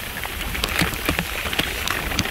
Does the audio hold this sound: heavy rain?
yes